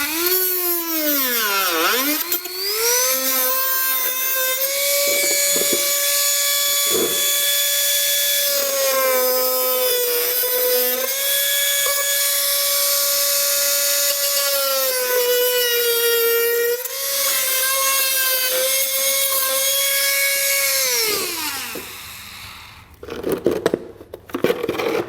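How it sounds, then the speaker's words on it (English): A Dremel rotary tool whines as it cuts a thin plastic panel on a 2022 Hyundai Palisade, a loud high-pitched motor tone that rises, holds steady with slight dips under load, then winds down. "with this being pretty thin plastic, I'm going to use a Dremel tool"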